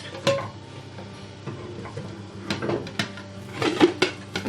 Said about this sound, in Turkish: Şimdi ters yapacağımız tabağımızı üzerine ters çeviriyoruz.